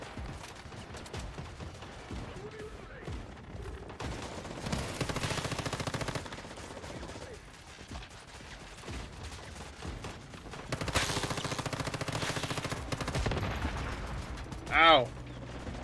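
The Shadow Gatling gun fires in a video game as a loud, sustained rapid burst of gunfire, repeated in long stretches with brief pauses over continuous game noise.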